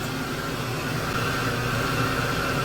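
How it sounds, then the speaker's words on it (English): An air conditioner runs off an inverter fed by a 48-volt EG4-LL LiFePO4 lithium battery, giving a steady, fairly loud whirring hum with a broad airy hiss that holds even throughout. "I'm going to try starting the air conditioner right now."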